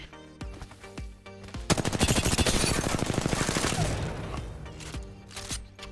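Rapid automatic gunfire in Apex Legends while bunny hopping, a loud sustained burst of about three seconds framed by shorter isolated shots and footstep thumps.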